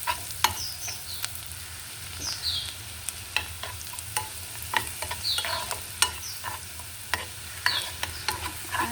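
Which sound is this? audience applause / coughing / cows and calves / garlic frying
garlic frying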